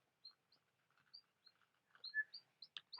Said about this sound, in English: That bird is really making some great sounds, huh?